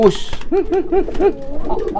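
A pigeon coos repeatedly while courting a female, a series of four or five rhythmic rolling coos close by, with a brief higher note at the start.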